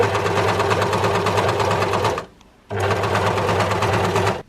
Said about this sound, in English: pull it apart a little bit as you overlock over that notch